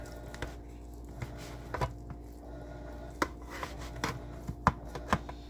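Knife slicing through a jalapeño and apricot glazed pork loin on a sliding pan, with several soft, scattered cuts and taps over a low steady background.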